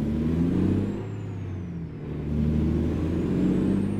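Kenworth W900 truck with a Cummins ISX engine in American Truck Simulator, its deep engine drone steady and loud throughout, briefly easing and dipping near the middle before building again, with a faint high whine above.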